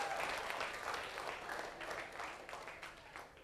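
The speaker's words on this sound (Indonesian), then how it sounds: "tepuk tangan Indra" Applause from a studio audience on a dangdut dance show, a continuous patter of clapping held at moderate distance, gradually thinning out toward the end.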